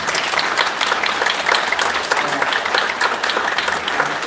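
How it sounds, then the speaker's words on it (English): A room full of people at a Westminster city council meeting applauds young award winners, dense sustained clapping that stays strong and even throughout. "Please give them a round of applause."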